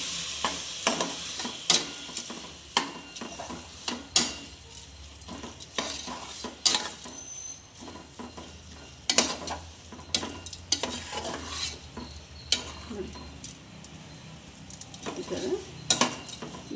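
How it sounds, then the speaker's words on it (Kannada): A steady sizzle of green gram frying in a pan runs under repeated scraping and clanking strokes of a spatula, stirring in an uneven rhythm. No talking. "ಎಲ್ಲ ಹಾಕೊಂಡು ಚೆನ್ನಾಗಿ ಸ್ವಲ್ಪ ಫ್ರೈ ಮಾಡ್ಕೊಳ್ಳೋಣ"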